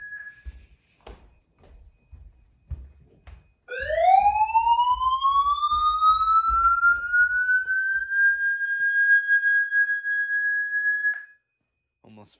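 A vintage Honeywell fire alarm system sounds during a test inside a house: a loud electronic tone that sweeps steadily upward and holds a high pitch for several seconds before cutting off, with faint clicks and handling noise before it starts.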